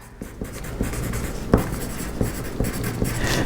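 Pen writing on a paper sewing pattern while drafting a peplum top: steady close scratching strokes with short taps and pauses, quiet room, no talking.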